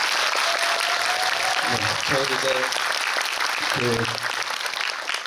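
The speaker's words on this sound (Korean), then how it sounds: "그분들에게도 박수 부탁드리겠습니다" A festival audience applauds cast and crew at a film screening Q&A in Busan, a continuous dense patter of clapping filling the hall while someone speaks briefly over it.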